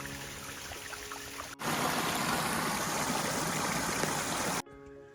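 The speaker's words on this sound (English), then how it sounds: "Look at this waterfall." A waterfall on the Long Trail in Vermont's Green Mountains rushes as a loud, steady roar that cuts in abruptly and then drops away, with quieter forest ambience before and after.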